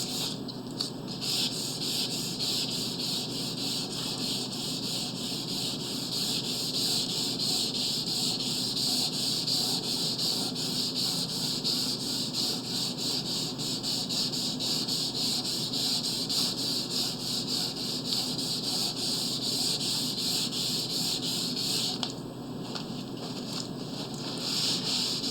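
Wood being sanded by hand with wet/dry waterproof sandpaper while applying varnish on a guitar build, a steady continuous rubbing hiss close by, unbroken for most of the time before a brief change near the end.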